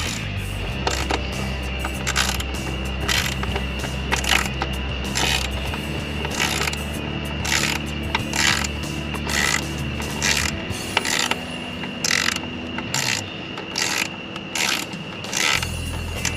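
A ratchet tightens spark plugs on a Honda Type R, giving a long run of rhythmic clicking strokes with short pauses between them, close and fairly loud over a low background hum.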